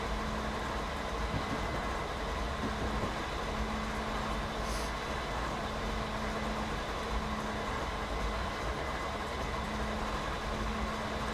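Heavy freight train rolling downhill at Stevens Pass in Train Simulator 2017, a steady dense rumble of wheels and engine with a faint sustained brake hum throughout.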